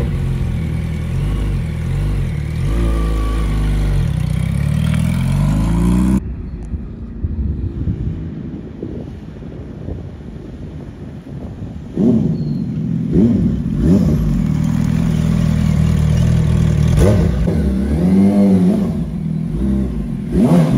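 Two parked motorcycles, left standing in the rain in Calgary, are started and revved, with a low rumbling engine drone, a sudden cut, then renewed uneven revving with rising pitches, close and loud amid wind noise.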